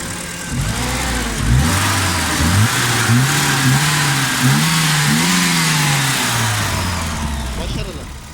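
A BMW 316i E30 with the M40 engine and a faulty air flow meter, revving up and down repeatedly, the pitch rising and falling unevenly, loud and close, with someone talking over it.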